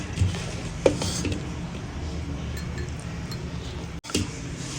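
Cooked prawn and tamarind-leaf curry is scooped from a pot into a bowl, with a few scattered clinks and scrapes of a metal spoon against cookware over a soft background hum.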